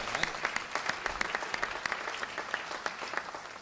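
Audience applause during a university presidential address at a 50th anniversary celebration, scattered individual claps sounding fairly faint and distant, loose and uneven rather than a dense roar.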